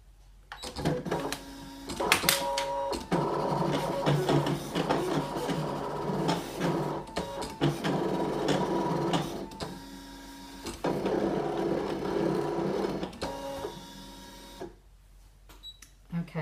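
A Brother ScanNCut machine cuts three shapes out of fabric at speed 5, giving a busy mechanical whir with repeated motor movements and clicks. The sound runs steadily and close for most of the clip, with a person talking over it.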